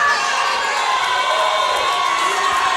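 Nashville wrestling crowd cheering for Miss Rachel's entrance, a continuous bright roar of shouting and whistles filling the arena, loud and unbroken throughout.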